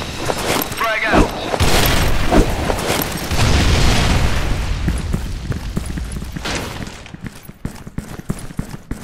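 A grenade explodes in the shooter game Soldier Front 2, a loud close boom with a long rumbling decay and debris rattle, while a shouted voice calls out over the start.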